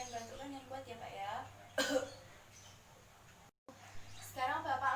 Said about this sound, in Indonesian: tahan dan batukkan dengan kuat